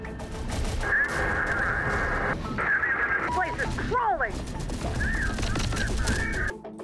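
Gunfire aimed at a turret in Terminator Dark Fate Defiance crackles in dense bursts, loud and close, mixed with sharp impacts and electronic whines, while a voice speaks over the shooting.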